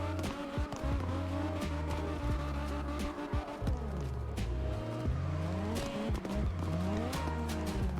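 Cars in the CarX Drift Racing game drift in a community Formula Drift tournament, with engines roaring and revving steadily and tires squealing through long sideways slides, loud and continuous throughout.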